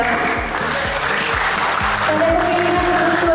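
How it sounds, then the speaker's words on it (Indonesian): An audience bursts into loud, sustained applause at the official ceremony naming the elected regent and vice regent of Minahasa Utara, with a rhythmic music bed pulsing underneath. "Kita berikan tepuk tangan yang meriah."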